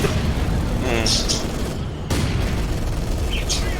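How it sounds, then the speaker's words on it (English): Bomb attack in Company of Heroes 2 battle: a deep boom and rumbling explosions within dense in-game battle noise, with a caster talking over it. "there's a nice bomb attack"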